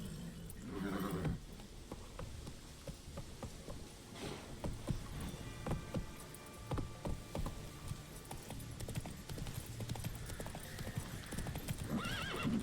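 Roach the horse gallops in The Witcher 3, hooves clip-clopping in a quick steady rhythm throughout, with a whinny near the start and other game sounds layered over the steps.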